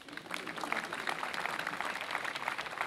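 An audience at a university graduation ceremony claps for a short stretch, a dense, even patter of many hands heard from within the hall.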